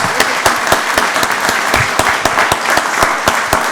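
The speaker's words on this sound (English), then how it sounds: "Let's give Captain Russell another round of applause." Applause at a county board of commissioners meeting honoring a captain, distinct individual claps from a small group, crisp and close, with an uneven rhythm.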